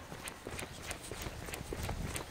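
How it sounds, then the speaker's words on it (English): Fast running footsteps going up a staircase, a quick steady rhythm of muffled thuds close by, recorded while jogging with a phone and heard under steady background noise. "I will actually run up the stairs here just to show you."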